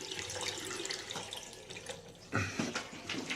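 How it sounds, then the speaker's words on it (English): Water runs from the bathroom sink taps in a Grand Hotel room in Scarborough, a steady close splashing flow that surges louder near the end, with no voices. "Taps all good."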